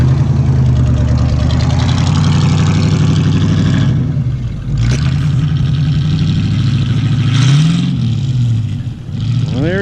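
A 1975 Chevrolet Camaro LT with a 350 and four-speed rumbles loudly close by, its engine note rising and dipping with revs as it pulls away, ending with a quick rev.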